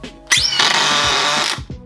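A new power drill spins up sharply, runs at a steady high-pitched whine for just over a second, then winds down, close and loud with no talking.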